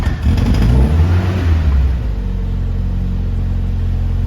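A restored 1975 MG Midget's engine runs close by, a loud revving burst in the first two seconds settling into a steady low idle rumble.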